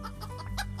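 A chicken clucks in a short, lively burst of a few choppy, rhythmic clucks, close and fairly quiet, with no talking over it.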